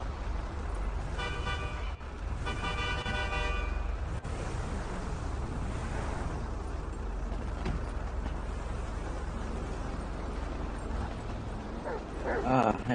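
Several dogs bark and yip in a game called Poochems, sharp bursts coming in quick clusters early on, mixed with a car horn toot and a busy background, with someone talking over them.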